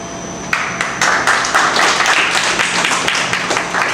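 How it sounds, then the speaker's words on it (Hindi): An audience at a stand-up comedy show breaks into applause, brisk clapping from many people that starts abruptly, builds quickly and carries on steadily and fairly loud. "आपको तालियां बजा देना है"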